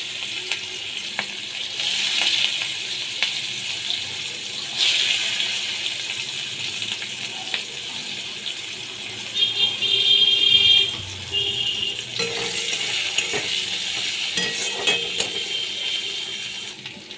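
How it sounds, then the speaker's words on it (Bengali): Whole cumin, black cumin, cinnamon and chopped onion fry in hot oil, giving a loud, steady close sizzle that hisses on throughout with small pops and crackles. "তেলের মধ্যে আমি এক চামচ গোটা জিরে দিয়ে দিলাম হাফ চামচ কালো জিরে দিয়ে দিলাম দারচিনি দিয়ে দিলাম পেঁয়াজ কুচি দিয়ে দিলাম"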